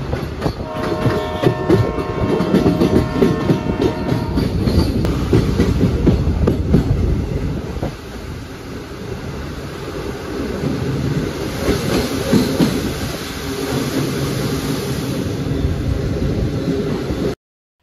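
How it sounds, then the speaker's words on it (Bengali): Train running over open fields heard from inside a carriage, with continuous rumbling rail noise, rhythmic clickety-clack of wheels and a steady high whine, loud and unbroken throughout. "ফাঁকা মাঠের ওপর দিয়ে চলা ট্রেন"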